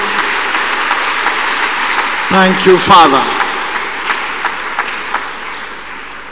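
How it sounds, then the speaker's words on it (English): A church congregation at a Thursday counselling and deliverance service claps to God, a brief burst of applause under a man's spoken thanks, then steady room tone. "Let's clap unto God and appreciate him."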